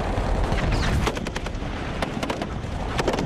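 Dense gunfire fills a mass attack, bursts of automatic shots and overlapping reports crackling loudly and continuously without a break.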